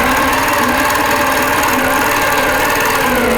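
A quilting machine sews rows across a quilt, giving a loud, continuous mechanical drone with a fast, even stitching rattle that never lets up.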